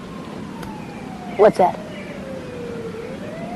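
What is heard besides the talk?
police sirens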